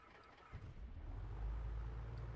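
The right engine of an A2A Aerostar 600 in a flight simulator starts with a low rumble that builds after half a second. It then settles into a steady, deep drone at moderate loudness.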